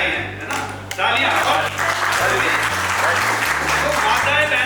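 Audience applause at a beekeeping event in India, a steady sustained round of clapping over a low musical hum, with some talk mixed in.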